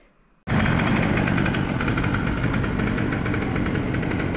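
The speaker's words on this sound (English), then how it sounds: "Loads of these motorbikes go through the middle of Évora." A loud motorbike engine suddenly roars up close in the centre of Évora, Portugal, and keeps revving steadily, rough and droning, with no voices.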